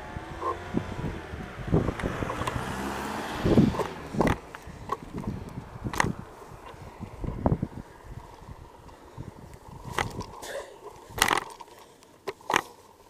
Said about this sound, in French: Je vais laisser passer la voiture.